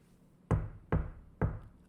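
Three firm, evenly spaced knocks on a door, close and distinct, each a sharp thud with a short decay, and no voices.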